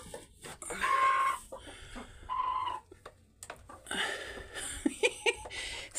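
Hens clucking and squawking close by, a busy run of overlapping calls with short pauses, a few sharp bursts near the end, as several hens crowd one nesting corner.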